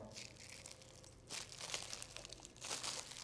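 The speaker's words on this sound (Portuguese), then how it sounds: "Vou macerar bem esse moranguinho." A fresh strawberry being mashed and macerated, giving soft wet crunching and crinkling squelches in a few short bursts, quiet and close, with no talking.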